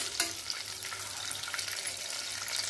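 Dry fruits frying in a little ghee give off a steady, soft sizzle and crackle, with no pauses, at low volume and close by.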